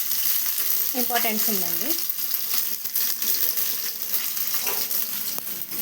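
Ginger frying in a pan gives a constant close sizzle that runs through the whole stretch, while a voice talks over it briefly.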